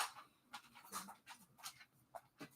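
Two pet dogs whimper and pant quietly indoors in short breathy bursts, soft and close, with faint household movement around them.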